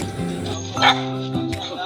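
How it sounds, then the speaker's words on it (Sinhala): A black-muzzled dog at a house barks in one short, loud yip amid whining, harmonic vocal sounds, with a couple of softer yelps following. "ඒ බල්ලෙක් ඉන්නවා"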